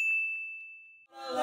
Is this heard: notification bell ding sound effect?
yes